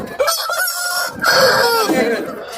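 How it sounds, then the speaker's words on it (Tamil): A rooster crows loudly and close by at a livestock market, a drawn-out harmonic call of about two seconds with other birds and faint background noise around it. "அருமையான மயில் சேவலும் இருக்குது"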